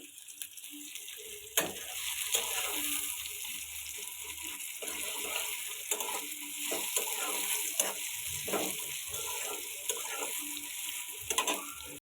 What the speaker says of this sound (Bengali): পেঁয়াজটা ব্রাউনিশ করে ভেজে নিতেছি